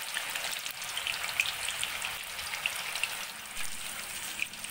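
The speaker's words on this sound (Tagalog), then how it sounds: "Isa-isahin natin siya, ilalagay sa mantika. Dapat medyo marami yung mantika." Pieces of tofu fry in a generous amount of cooking oil, giving a steady, close sizzle with scattered pops and crackles throughout.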